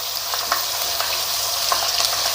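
Chicken nuggets crackle in hot oil with a dense, even sizzle and scattered small pops, close up and steady, with no voices.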